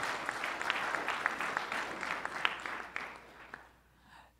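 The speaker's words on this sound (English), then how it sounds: "Let's give a round of applause for everybody who worked on Tetragon." Audience applause at a Cilium and Kubernetes tech conference session, celebrating the Tetragon 1.0 release: a dense, steady clapping from a large crowd that fades out toward the end.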